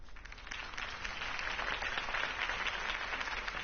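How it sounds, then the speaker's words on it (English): Steady applause from a large crowd in Batman: The Telltale Series swells slightly and holds, a dense wash of clapping with no talking. "If only Mr. Wayne, my campaign's largest backer, could have heard that applause"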